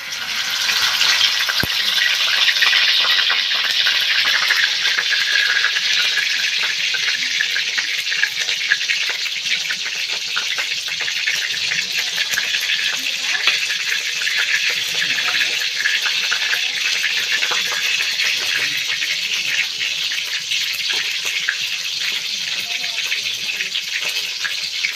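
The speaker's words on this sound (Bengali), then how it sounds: "এবার ভেজে নেব, তেলে দিয়ে দিব।" Kachki fish fritters wrapped in bottle gourd leaves frying in a wok of oil, a dense, even bubbling hiss that runs steadily for the whole stretch.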